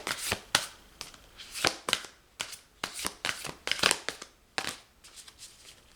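Large, somewhat sharp playing cards are shuffled by hand in a quick irregular series of crisp riffling snaps and rustles, close and fairly quiet, with short pauses between bursts.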